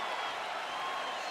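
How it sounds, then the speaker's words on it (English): UFC arena crowd applauding and cheering after a round of a Lawler vs. Brown fight, a steady, dense wash of clapping and crowd noise filling the whole moment without a break. "So the crowd voicing its appreciation after that round."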